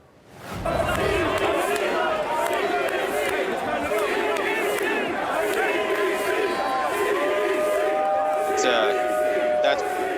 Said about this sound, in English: The crowd in Oakland, California, am I wrong here? They're cheering CBC?